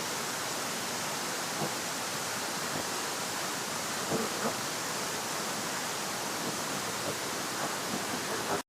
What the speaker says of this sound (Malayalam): നമ്മുടെ വെള്ളച്ചാട്ടത്തിൻ്റെ അടുത്തുള്ള വ്യൂ